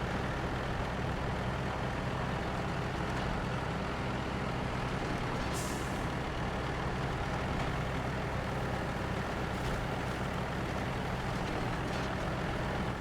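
A truck's engine drones steadily while driving off-road in SnowRunner, a constant low rumble with a brief hiss partway through and no talking.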